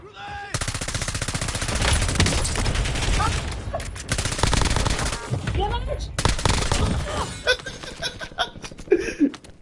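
Automatic gunfire in a shooter video game, long loud bursts of rapid shots that continue almost without pause, with laughter and talking over the shooting near the end.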